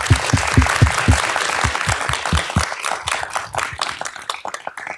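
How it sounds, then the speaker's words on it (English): A small audience at an employee resource group panel claps for the panelists, distinct close-up hand claps at first settling into a lighter, scattered round that fades over a few seconds without talk. "give a round of applause for you guys"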